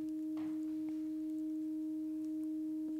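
A granular-synth bell tone, dropped an octave with three semitones of chorus and reverb, rings as a steady, faint sustained pitch with a soft overtone and a few brief, quiet shimmers.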